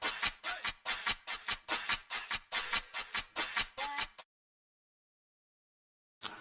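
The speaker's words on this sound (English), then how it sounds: "And it's just a perk loop, sounds like this." A dark Jersey drill percussion loop plays loud and up close, a rapid bouncy pattern of crisp hits running for about four seconds before stopping dead into silence, with one more hit at the very end.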